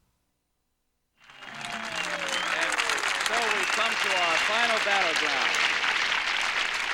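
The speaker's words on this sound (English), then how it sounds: "Could you please stop clapping?" A studio audience claps loudly and steadily at a comedy quiz-style show before a tug-of-war event in a World's Strongest Man contest, the broad wash of applause continuing throughout while someone speaks over it.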